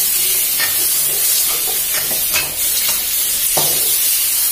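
Straw mushrooms and shrimp being stir-fried over high heat with oyster sauce and fish sauce: a loud, steady sizzle close up, with scattered spatula scrapes and clicks.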